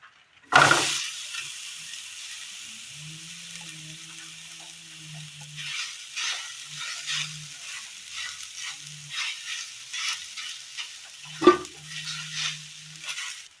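Chopped jackfruit sizzling and frying in a pan on the stove, with a sharp clatter as it goes in, then steady hiss, spoon scrapes and stirring knocks throughout; no talking.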